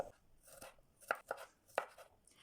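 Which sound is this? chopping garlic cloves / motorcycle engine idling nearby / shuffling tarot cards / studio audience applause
chopping garlic cloves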